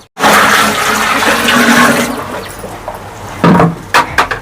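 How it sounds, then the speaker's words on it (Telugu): A bucket of water gushes loudly and close into a liquid jeevamrutham fertilizer mix, a strong pour lasting a couple of seconds that fades into a few splashes. "ఇంకొక బకెట్ వాటర్ మిక్స్ చేద్దాం"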